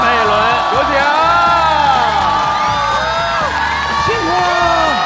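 A studio audience at a sketch-comedy competition show cheers loudly, with whoops and shouting voices over a constant roar of crowd noise, close and full throughout.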